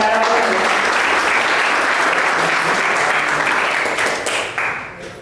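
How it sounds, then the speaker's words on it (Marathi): Loud, sustained applause fills a school gathering hall at an annual function in Vitner, steady and dense from a large audience before tapering off near the end. "सर्वांनी टाळ्या वाजवा"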